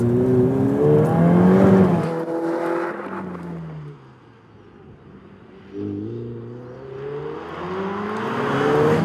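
A Ferrari 488 Pista Spider (2019) V8 engine revving while driving, rising and falling tones through gear changes, dipping near quiet off-throttle mid-way before surging again loud and close.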